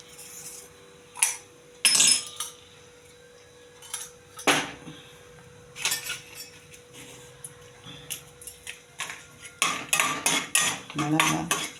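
Chillies and urad dal roast in oil in a pan, with a metal spoon clinking and scraping against it in irregular bursts that grow busier toward the end.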